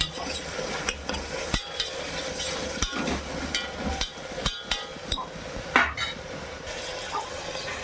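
Tomato pieces frying in a pan for mutton keema curry, a steady close sizzle broken by sharp spoon clanks and stirring knocks against the metal.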